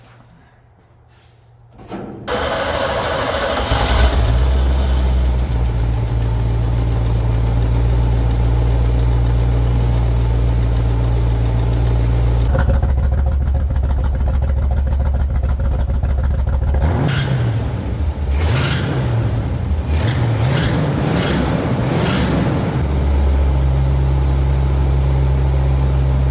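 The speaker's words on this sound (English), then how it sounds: "I think we're gonna try to crank it up real quick, see how she runs." A 1971 Chevrolet C30 dump truck engine cranks and catches after a quiet moment, then settles into a loud, lumpy idle with a few throttle blips partway through.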